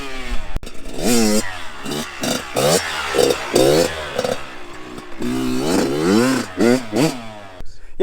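A Kawasaki KX112 dirt bike engine revs repeatedly up and down in short bursts, rising and falling pitch, loud and close.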